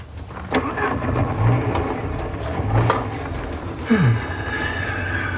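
A car engine fails to start: the starter cranks in a few separate attempts, each a brief rough churn that dies away, close by with no talk over it.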